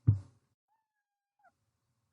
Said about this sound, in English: so it is going forward and making a sound of meow